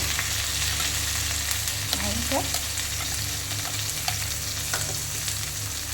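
Onions frying with ground spice paste in a pan, a dense steady sizzle with occasional stirring scrapes, close up, and a brief spoken word over it.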